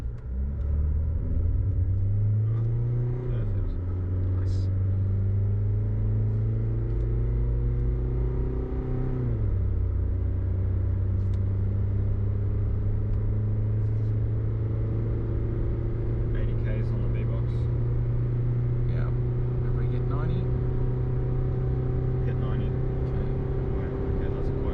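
SsangYong pickup accelerating hard while towing a trailer dyno, a loud, steady engine drone rising in pitch, dropping at two gear changes and then holding a long, even rumble.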